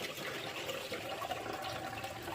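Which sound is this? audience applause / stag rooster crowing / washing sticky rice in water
washing sticky rice in water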